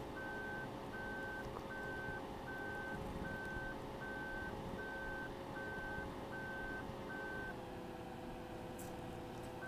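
A truck in Farming Simulator 2015, on an Alps map, gives a steady run of evenly spaced reversing beeps over a low engine hum, then the beeping stops near the end.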